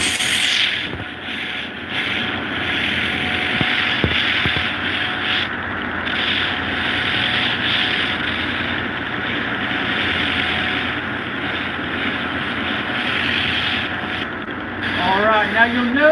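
A belt grinder steadily abrades knife handles during bulk finishing, giving a continuous loud sanding rasp with a constant hum that runs without a break throughout.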